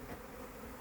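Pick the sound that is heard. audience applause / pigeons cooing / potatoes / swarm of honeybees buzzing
swarm of honeybees buzzing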